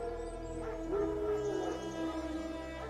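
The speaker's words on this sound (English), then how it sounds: "No. Wild dogs." Wild dogs howling in the distance in The Witcher 3: Wild Hunt, a faint, drawn-out wavering howl over a low, droning ambient wind bed.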